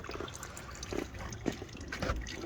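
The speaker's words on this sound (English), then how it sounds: "just let it drain. Then we'll take it off, drain the rest of the oil right in here." Motor oil draining from the oil filter of a 2016 Kia Optima EX into a drain pan gives a continuous close liquid trickle and patter, with small splashes and drips.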